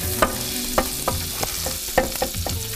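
Garlic frying in oil alongside a fish fillet, a steady sizzle with repeated spatula strokes scraping the pan at a quick, uneven rhythm, close and clear.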